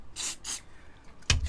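An aerosol can sprays onto a model hayfield wall of stone and slate, giving three short, close hisses: two quick bursts, then a third after a pause.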